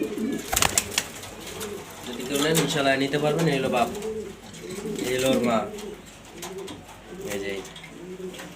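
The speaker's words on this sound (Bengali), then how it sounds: "বাচ্চা কবুতর দুই পর হয়েছে নর্মাদে হান্ড্রেড পার্সেন্ট এই যে দুইটা কবুতর" Pet pigeons, including a pair of young birds kept for sale, cooing in repeated throaty rolling phrases close by while someone talks over them.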